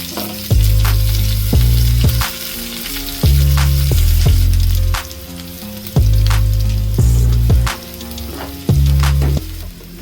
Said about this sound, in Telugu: ఇప్పుడు పోపు కోసం ఒక ప్యాన్ పెట్టుకొని ఆవాలు, తెల్లగడ్డలు, ఎండుమిర్చి అండ్ ఒక ఆనియన్ పీసెస్గా కట్ చేసి